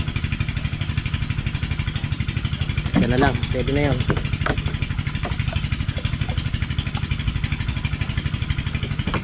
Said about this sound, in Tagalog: umandar yung makina nila.